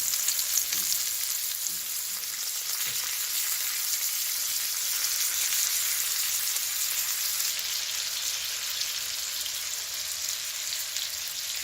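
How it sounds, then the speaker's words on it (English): A T-bone steak sears in a hot pan, a loud, steady hiss of sizzling fat with faint crackles throughout, close and continuous with no speech. "Look at that steak sizzle."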